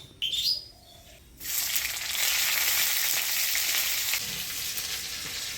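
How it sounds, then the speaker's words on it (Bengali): Black cumin and onion tempering hits hot oil with a sudden loud burst of sizzling after a brief quieter start, then holds a steady, dense hiss. "ফোড়ন দিয়ে দিব কালো জিরা, পেঁয়াজ।"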